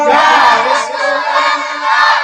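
Large crowd at a Sunni religious gathering roaring a loud, sustained chanted response, many voices shouting together in a steady swell with a brief dip midway.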